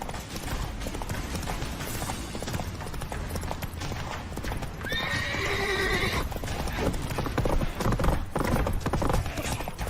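Hooves clip-clop rapidly as Roach gallops in The Witcher 3 game, with a horse's whinny cutting through midway, all set against dense, busy game ambience.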